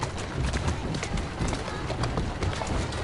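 Steady clip-clop of horse hooves at a walking pace in Assassin's Creed Syndicate, close and fairly loud, with faint ambient noise and no talking.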